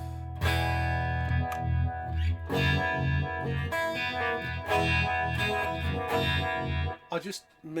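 Electric guitar chords through a Univibe pedal's swirling, throbbing modulation, played loud and sustained, ending with a few choppy strums.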